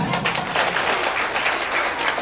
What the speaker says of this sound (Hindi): एक बार पुनः इनके सम्मान के लिए जोरदार तालियां